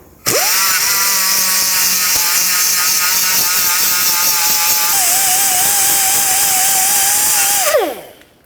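A power sanding disc grinds a rear brake hub flat on a 2007-2009 Saturn Aura, a loud steady high-pitched whine that spins up, holds for about seven seconds with a slight pitch dip midway, then winds down.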